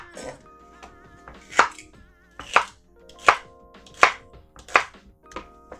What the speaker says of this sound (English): so I've got 4 stalks of celery here. And if you cut into bigger chunks